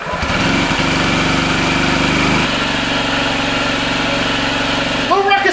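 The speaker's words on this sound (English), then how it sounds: "Little Ruckus is running again." A Honda Ruckus scooter engine idles steadily with the plastics off, a close, loud and even putter that runs throughout, with its pitch dropping slightly partway through and a brief voice near the end.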